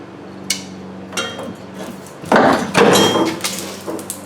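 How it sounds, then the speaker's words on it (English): Metal knocks and bangs as the rear spring shackles are pried and hammered off a Ford Ranger, with a few sharp early taps followed by a cluster of louder, close impacts. "When we get a pry bar, we'll knock these shackles off."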